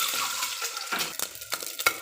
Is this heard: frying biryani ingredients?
yes